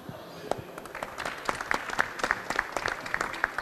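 An audience claps steadily throughout, a dense patter of many hands at moderate volume without cheering or speech.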